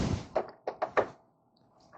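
Plastic trim clips popping loose from an interior panel of a 2011 Chrysler 200, four quick hollow knocks and snaps in close succession, near and fairly loud, then a brief faint tap.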